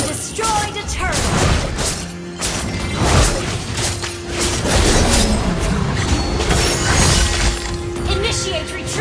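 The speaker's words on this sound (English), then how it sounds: "Your team destroyed a turret." A turret being destroyed in the Mobile Legends: Bang Bang game, heard as dense shattering crashes and booms over a continuous loud bed of game effects, with a game announcer's voice partly over it.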